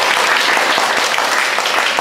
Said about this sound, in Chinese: 那我们先热烈掌声的感谢陈国英老师今天来给我们做这个演讲